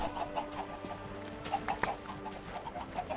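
Chickens in Minecraft give short repeated clucks, quiet and scattered over a faint background, with no talking.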